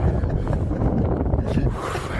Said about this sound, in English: and now it's windy